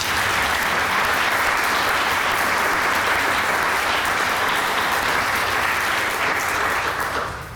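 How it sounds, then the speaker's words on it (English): An audience at a Springfield Police Department swearing-in ceremony gives a full, sustained round of applause, dense and even for about seven seconds before tapering off at the end. "So let's give them one more round of applause."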